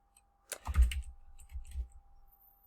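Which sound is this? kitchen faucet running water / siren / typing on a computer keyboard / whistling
typing on a computer keyboard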